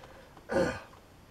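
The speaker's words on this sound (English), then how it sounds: "I said I would read until my first coughing collapse" A single short throat clearing, close and fairly loud, with no talking around it.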